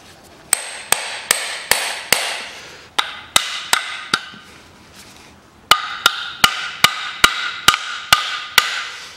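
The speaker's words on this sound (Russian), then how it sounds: "Теперь выбиваем отвертку." A hammer drives a screwdriver out of an engine mount on a 2003 Toyota Caldina 2.0: about twenty sharp, close metallic blows in quick runs, with a short pause midway before a faster final burst.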